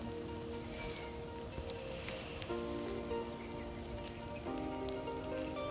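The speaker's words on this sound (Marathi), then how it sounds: "मस्त पावसामध्ये एकदम" A steady monsoon rain falls in the Konkan countryside of Maharashtra, a constant patter and hiss on surfaces with a low sustained tone running beneath it.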